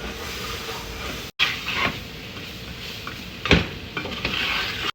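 Onions being stirred into a roux in a pan for smothered pork chops, with a constant close sizzle and a few scraping strokes of a utensil, briefly cut off by a short silence.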